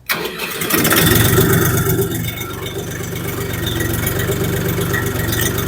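A large Bulat 244 tractor engine cranks and catches, then settles into a loud, steady rumbling idle that continues to the end.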